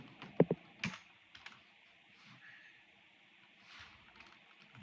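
Quiet keystrokes on a wireless computer keyboard, a few sharper clicks early on followed by soft, scattered taps, heard close and alone.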